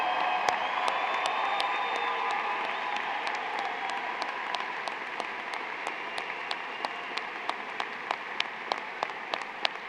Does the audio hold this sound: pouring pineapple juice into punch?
no